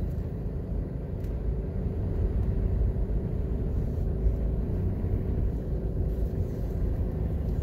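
A car drives slowly past the walled, gated residential complexes of Drax Hall, Jamaica, with a steady low engine and road rumble heard from inside the vehicle, continuous and even throughout, with no talking.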